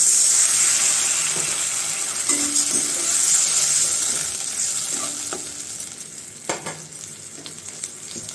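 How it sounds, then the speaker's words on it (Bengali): Fried onions sizzle loudly in a hot pan after water is added, making a steady, close hiss with occasional stirring scrapes and clicks. "এদিকে আমার পেঁয়াজ ভাজা হয়ে গেছে, একটু জল দিয়ে দিই।"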